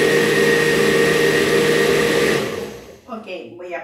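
A blender purees beetroot for gelatin, giving a loud, steady whir for about two and a half seconds before the motor cuts out and a voice speaks close by.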